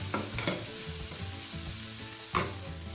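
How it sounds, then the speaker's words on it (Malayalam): Spice powders are stirred into vegetable biryani masala in a hot pan, with a steady sizzle and the spoon scraping and clinking against the metal pan in a few sharp strokes. "നന്നായിട്ടൊന്ന് ഇളക്കി കൊടുക്കണം"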